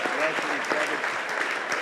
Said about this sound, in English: round of applause for my panelists tonight